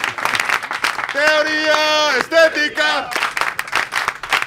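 Studio audience applause and cheering at the close of a comedy talk show, sustained under a loud voice shouting over it.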